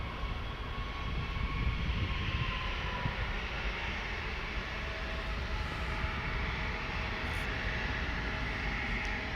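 A Mitsubishi CRJ 900 jet at Schiphol Airport gives off a steady broadband engine roar, distant and even, holding at constant loudness without voices.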